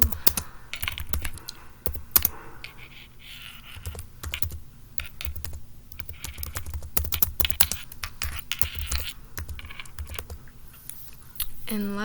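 Clattering keystrokes on a computer keyboard come in quick irregular bursts and pauses, close and fairly clear, with soft background noise and no speech.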